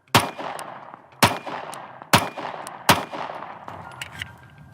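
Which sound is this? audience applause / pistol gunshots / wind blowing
pistol gunshots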